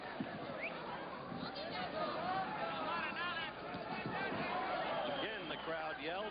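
Boxing arena crowd at a WBC super featherweight title fight between Alexis Arguello and Ruben Castillo, a dense, steady roar of yelling and babble that carries from start to finish with no single voice standing out.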